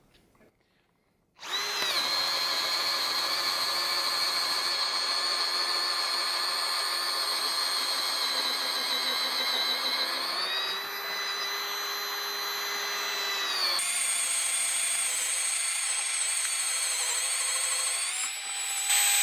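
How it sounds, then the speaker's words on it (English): A Bosch cordless drill in first gear whines steadily at high speed for a long stretch, pitch dipping and rising as the bit bores large holes into a wooden fence post, loud and close. "we're going to drill some fairly large holes in this fence post in first gear with this machine"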